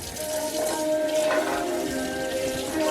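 Tap water running steadily over strawberries in a small sink, a close splashing rush with a faint ringing tone, continuous and without talking.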